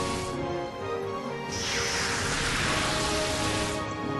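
Steady rain in the video game Pokemon XD: Gale of Darkness hisses throughout, swelling brighter and heavier midway, a continuous wash of falling water with a faint low rumble beneath.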